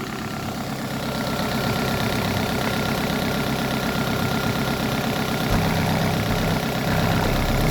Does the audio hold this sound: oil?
no